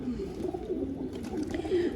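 Pigeons coo steadily and close by, a soft throaty warble repeating without pause over a low background murmur.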